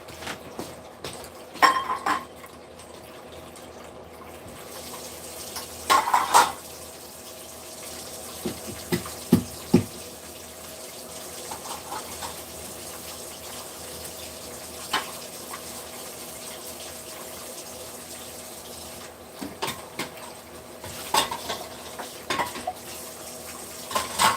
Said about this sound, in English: I just bought these pans, but I'm going to rinse them really quick.